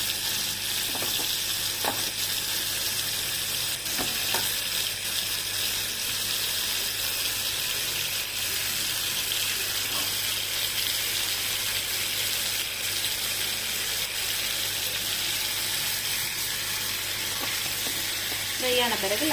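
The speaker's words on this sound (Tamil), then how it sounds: "ஒன் சைட் நல்லா ஃப்ரை ஆகிற வரைக்கும் வெயிட் பண்ணணும்" Chicken frying in oil makes a loud, continuous close-up sizzle and crackle that holds steady for the whole stretch, with faint occasional utensil taps and no voices.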